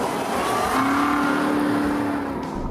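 A base Chevrolet Corvette Stingray sports car drives along, its engine holding a steady, fairly loud drone with a slowly rising tone over road and tyre noise, heard from inside or close by and with no talking.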